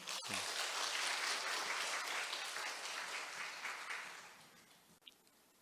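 A crowd applauds steadily at a church service, a broad wash of clapping that gradually thins out and fades near the end.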